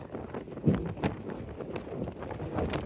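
Wind buffets a boat at anchor in the Bahamas, a steady rumbling rush with gusty swells and occasional knocks close to the microphone, with no one talking.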